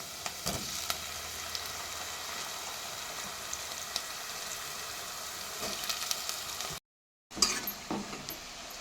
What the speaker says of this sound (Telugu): కడిగి పెట్టుకున్న బీరకాయ ముక్కలు వేసుకున్నాం.